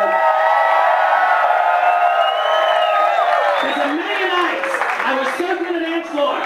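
A crowd applauds and cheers for a DJ at a live comedy show, with loud whoops and shouts over clapping that fill the room and continue steadily.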